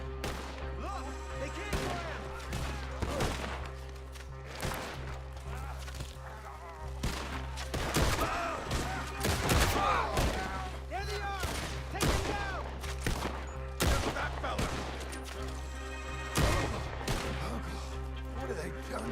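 Repeated gunfire from a Red Dead Redemption video game, sharp bursts of shots scattered throughout over a steady game soundtrack drone, with a voice talking intermittently.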